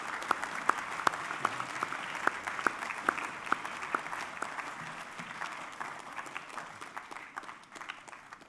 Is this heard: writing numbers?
no